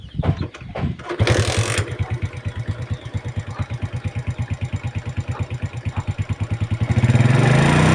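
Motorcycle engine cranks with a few sharp starter bursts, catches, then settles into a steady close thumping idle before revving up briefly at the end.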